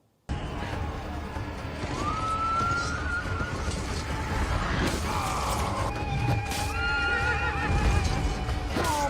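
Horses neigh and whinny amid battle clamour in the film 300, with high cries rising over a dense rumbling background and a hint of hoofbeats, loud and continuous.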